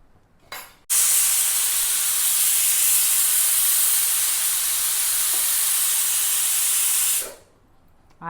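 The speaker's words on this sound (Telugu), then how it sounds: "6 విజిల్స్ వచ్చేసాయి." A pressure cooker cooking vegetable mutton curry on a stove lets out a long whistle: a loud, steady hiss of escaping steam that lasts about six seconds and then cuts off, with faint kitchen noise around it.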